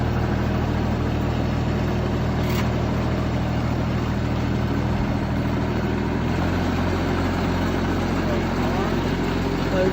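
A ride-on lawn mower fitted with mulching blades runs with its throttle raised slightly, giving a steady, droning engine hum that holds constant throughout with only a small shift in tone partway through.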